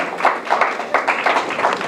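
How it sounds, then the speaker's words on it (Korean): A class of students claps for a classmate, a quick, dense patter of hands with rhythmic swells, close and fairly loud, with no talking over it. "박수 한번, 윤재"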